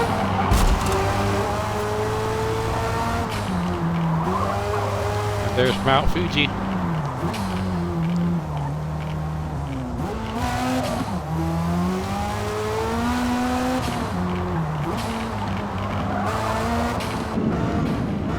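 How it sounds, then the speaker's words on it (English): Race car engine in the Forza Motorsport video game, loud and close, revving up and down through gear changes with tire squeal, under someone talking over it. "Oh, listen to that engine"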